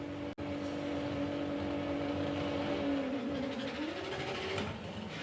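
Volkswagen Golf race cars launch off the line in a drag racing elimination round, a sustained droning engine roar that rises in pitch as they accelerate away, heard at a distance after a brief sharp click.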